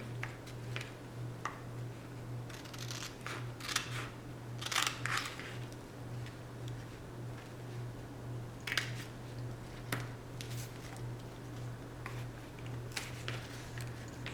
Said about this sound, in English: And snipping that off. Don't cut your ribbon.